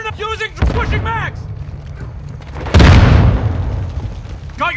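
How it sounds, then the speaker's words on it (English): A stun grenade detonates in a Call of Duty match, a sudden loud close bang with a rushing roar that fades slowly, following a stretch of voiced game callouts. "Throwing a stun grenade!"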